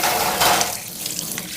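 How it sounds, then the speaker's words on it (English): Omega juicer parts being rinsed under a running sink tap, a steady broadband water hiss with splashing that thins out partway through, close and fairly loud. "Just kind of taking the juicer apart and rinsing it off."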